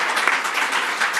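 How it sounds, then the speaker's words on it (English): A short burst of audience applause at a comedy show, steady and dense clapping filling the whole moment without a break. "can we have a round of applause for everyone"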